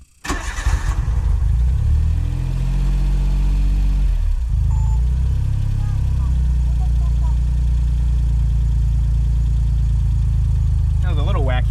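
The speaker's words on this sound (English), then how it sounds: "I'm going to start the car and you're going to see that thing move." Engine of a Suzuki Cara (Autozam AZ-1) kei car cranking over and catching, then settling into a steady, close, loud idle rumble, with a brief dip in revs partway through.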